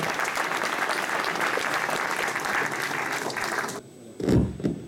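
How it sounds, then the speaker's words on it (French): Sustained, dense applause from an audience at a prize-giving ceremony for the Elorn challenge, steady and fairly loud for several seconds before cutting off, followed by a couple of brief low thumps. "Ils le méritent, des applaudissements, ces messieurs."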